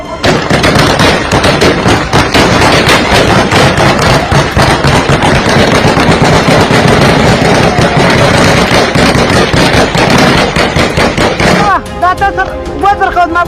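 Rapid, sustained bursts of Taliban gunfire in Afghanistan crackle loudly and continuously, sharp cracks overlapping for several seconds before giving way to a tonal, music-like sound at the end.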